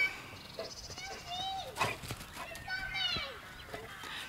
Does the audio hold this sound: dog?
yes